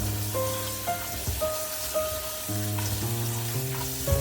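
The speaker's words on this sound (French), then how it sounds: "Et on va les rincer à l'eau froide toujours" Boiled gnocchi rinsed under cold running tap water, a steady close hiss of flowing water over the whole stretch, with tonal background music playing on top.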